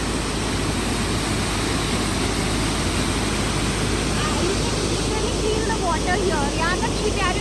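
Steall Falls in Scotland sends up a steady, loud, broadband rush of falling water that fills the whole scene without pause.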